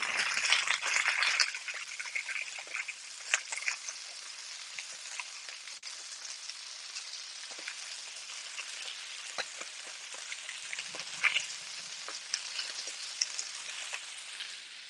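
Meat, peppers and green onions frying in a pan, a bright continuous crackling sizzle like steady rain, loudest at the start, with scattered pops and stirring sounds.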